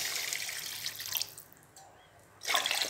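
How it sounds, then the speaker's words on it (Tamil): Water poured from a glass into a pan while cooking rava kichadi, a brief splashing pour at the start, a quiet pause, then another short close pour. "ஒரு 2 கிளாஸ் தண்ணி ஊற்றிக்கணுங்க"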